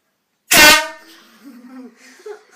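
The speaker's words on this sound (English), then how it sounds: "we go up to someone and we blow this horn" A fog horn blown as a prank lets out one loud, close blast lasting about a quarter second, then quieter voices talk briefly after it.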